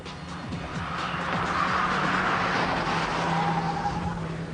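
Car engines drone steadily with tire squeal and whooshing passes, a Vauxhall Vectra among cars pushed hard on a handling test track, continuous and fairly loud throughout.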